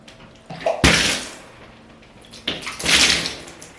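Water splashes in two bursts onto a water-repellent jacket and rolls off, each burst a close, hissing wash about a second long with a quieter pause between.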